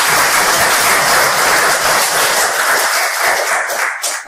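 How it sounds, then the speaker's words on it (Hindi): Loud, dense clapping from a seminar crowd at a Hindi business talk, sustained and close for several seconds before thinning out slightly at the end, with no voice over it. "दोनों हाथ है तो दोनों खड़ा करेंगे और खुद के लिए जोरदार ताली"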